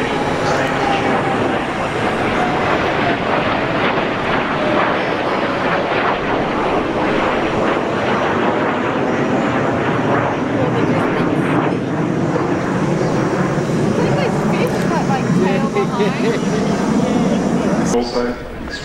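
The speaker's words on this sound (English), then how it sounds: "The aircraft is sitting only 20 metres behind the KC-30 and a beam tail." A steady, loud jet roar from an F/A-18 holding position close behind a KC-30 tanker during mid-air refuelling at the Avalon Airshow, sustained throughout with a commentator talking over it.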